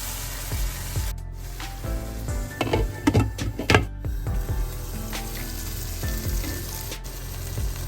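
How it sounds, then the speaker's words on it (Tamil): Ground masala paste for fish biryani sizzling in a pan while being stirred, with scraping and clinking of a spoon against the pan in a loose rhythm and a steady frying hiss underneath, close and moderately loud. "இனிமே நான் இந்த மீன் பிரியாணிக்கு அரைச்சி வச்ச கலவையை சேர்த்துட்டு எல்லாத்தையும் நல்லா கலந்து மூடி அவிய விடுவோம்"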